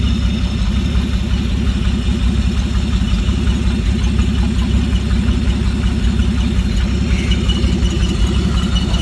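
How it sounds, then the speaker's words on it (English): A 1946 Plymouth engine, run after sitting six years and fed from a tank with its electric fuel pump disconnected, idles steadily with a low, even rumble and a constant throb, close and unbroken throughout. "He's just idling now."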